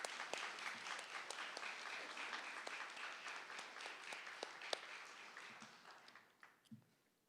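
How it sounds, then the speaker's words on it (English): A university crowd at a marketing event applauds recreational sports teams, with dense, steady clapping that carries for several seconds before thinning into a few scattered claps. "So give them a round of applause."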